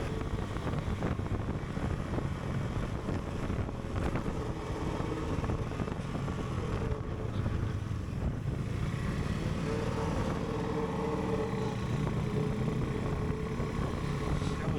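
A motorcycle on a cold-weather dirt-road rally ride, rider standing, pulls steadily up to speed with a continuous engine drone masked by heavy wind rush across the microphone, no talking.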